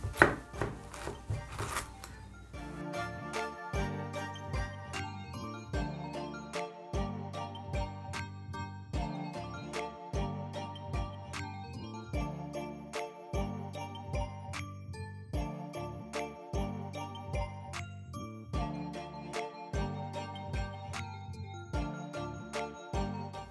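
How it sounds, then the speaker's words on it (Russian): A knife chops pumpkin into small pieces on a cutting board for Uzbek manti filling, with steady rhythmic thuds repeating close and clear and no speech. "И тыкву нарезаем такими же кусочками, как и мясо."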